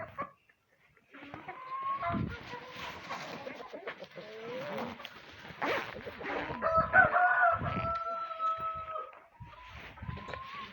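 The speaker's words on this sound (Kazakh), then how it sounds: "Бір шығарып алайық тауықтарды." Backyard chickens and a rooster cluck and call nearby on a farm before being let out to graze on grass, with repeated overlapping clucks, short squawks and rustling, fairly close and moderately loud.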